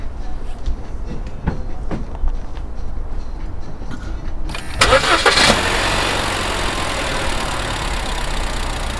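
A Chevrolet Aveo hatchback turbo RS with an Ecotec engine cranks and fires up after a few quiet clicks, then settles into a steady, smooth idle at close range.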